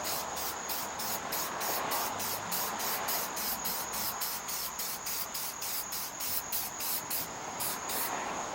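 Aerosol spray paint hisses steadily in repeated short bursts onto Ariens 824 snow blower parts, a close, continuous spray texture with rhythmic pulses and no talking.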